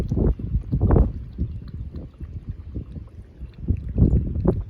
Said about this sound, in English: You see the wind's already starting to blow it.